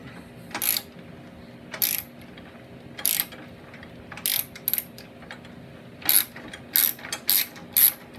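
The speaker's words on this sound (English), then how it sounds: "You can let the wrench go down and rest on the frame, and you won't have to hold that pressure of that self-locking nut." A ratchet wrench works a self-locking nut on a lawn tractor's steering rack, with repeated short bursts of quick clicking pawl ratcheting separated by pauses, close and distinct over a faint background hum.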